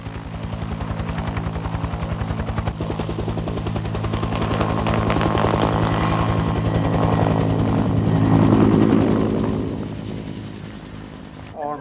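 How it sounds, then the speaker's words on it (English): A military helicopter flies squads back to base, its steady rotor thump and engine drone loud and continuous throughout, swelling slightly toward the middle before easing off near the end. "The squads are returned to base by helicopter."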